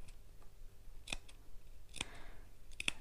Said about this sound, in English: So now I'm going to snip into my seam allowance again.